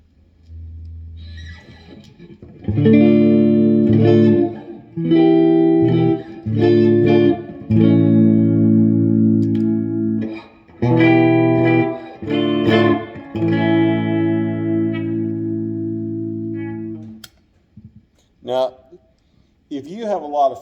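A 2022 Gibson Les Paul Traditional Pro V electric guitar rings out in loud, sustained chords and notes, played through an amplifier with a noticeable lack of treble and fading into quiet at the end.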